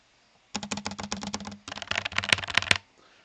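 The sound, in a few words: typing on a mechanical keyboard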